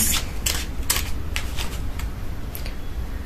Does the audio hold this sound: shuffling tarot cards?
yes